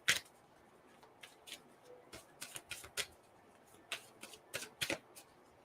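Llewellyn Tarot cards are shuffled by hand in quick bursts of crisp riffling and slapping, with short pauses between the flurries, close and fairly quiet.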